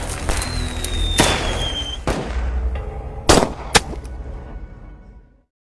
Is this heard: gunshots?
yes